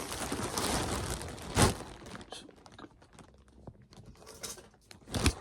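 A parcel is unboxed by hand, with bursts of crinkling and rustling plastic packaging, loud at first, then sparse close-up crackles and taps, with one final rustle.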